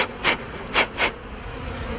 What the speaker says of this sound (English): Let me clear some of these field bees.